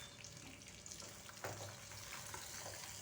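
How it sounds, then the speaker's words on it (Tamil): Roasted peanuts, coconut pieces and green chilli fry lightly in a pan, giving a faint, soft, steady sizzle with an occasional stir, heard alone and at low level. "ஏற்கனவே வறுத்த வேர்க்கடலையை தான் லைட்டாக வறுத்துக்கிறோம்."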